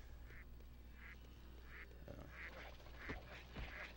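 A penguin character in the Lego Batman video game gives repeated duck-like quacks, about six evenly spaced nasal calls over a low game hum, faint and without speech.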